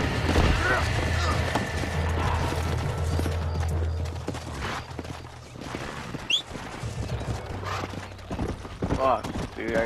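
A horse gallops up after being called in the video game Red Dead Redemption, its hoofbeats drumming through dense game noise with gunshot-like bangs while people talk over it.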